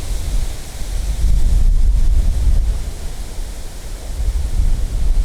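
Strong, gusting wind roars and buffets the microphone at a fishing spot during a violent storm, a loud, continuous low rumble swelling and easing without any voices.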